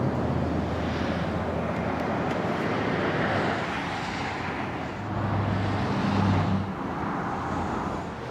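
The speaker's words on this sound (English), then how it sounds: "We'll start it up, show the engine, get exhaust clip" A 2016 Lamborghini Huracán Spyder LP610-4 runs with a steady, full engine and exhaust drone, rising in a couple of louder revving surges midway before settling back.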